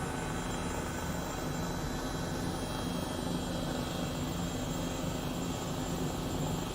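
H135 helicopter in flight in Microsoft Flight Simulator on a virtual medical evacuation around San Francisco, heard as a constant dense rotor and turbine drone that stays loud and unchanging throughout.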